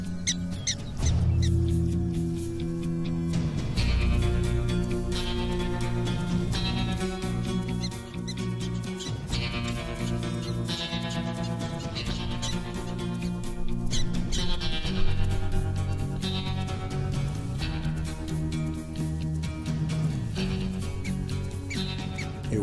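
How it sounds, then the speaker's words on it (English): A prairie dog gives its rattlesnake-specific alarm call, repeated squeaky chirps running steadily throughout over a dense, continuous background. "This particular call is specific to the snake. It's what "Look out, Rattler!" sounds like in prairie dog."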